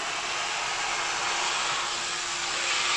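A child runs a toy vacuum cleaner: a steady, loud whirring motor drone with airy hiss that holds constant throughout, close by.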